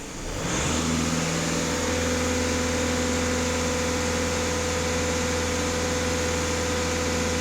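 A Skoda Superb 2.0 TDI EA288 diesel is held at about 2500 rpm after a quick rise from idle, giving a steady, loud, close engine drone with a constant low hum throughout and no voices.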